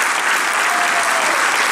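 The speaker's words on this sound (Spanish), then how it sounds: "Aplausos y reconocimientos entonces para Fabián y para Pablo," Audience clapping at a folk ensemble's 43rd anniversary concert: brief, steady, dense applause from a crowd, heard close and loud with no talk over it.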